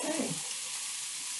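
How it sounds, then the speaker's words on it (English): Ground beef browns in a pan, giving a steady broadband sizzle that stays fairly even throughout, with a brief stir or scrape near the start. "So the first thing we're going to do is brown our ground beef."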